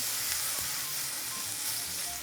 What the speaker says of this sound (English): So my oil now is super, super hot. And now we go to the searing part.